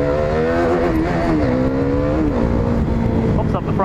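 A Yamaha YZF-R125 motorcycle revs hard to lift its front wheel in a wheelie, its engine note rising and falling in a loud, sustained whine close by, with a voice speaking over it.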